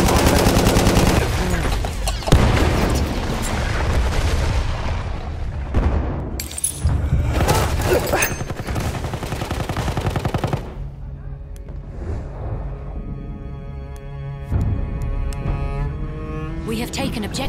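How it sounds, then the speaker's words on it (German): Enemy machine gun fire in Battlefield 1 on the Amiens map, rapid loud bursts mixed with explosions and battlefield noise, thinning after about ten seconds into quieter background rumble with tonal sounds before another blast at the end. "Feindliches MG!"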